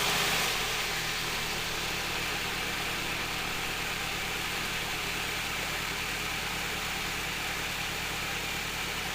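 A Fisher-Price toy fan fitted with a replacement motor runs on its low setting, producing a constant, even whirring drone that starts almost at once and holds steady throughout.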